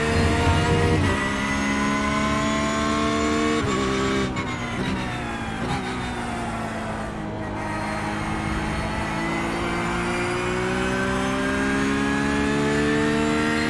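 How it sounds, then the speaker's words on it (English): An LMP2 prototype race car approaches, its engine loud and rising with sustained high-pitched revving, a gear change partway through, and the pitch climbing again toward the end. "And LMP2 coming at us."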